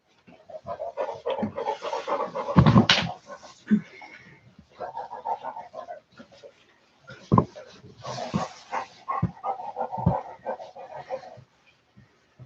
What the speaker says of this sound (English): Here's your puppy.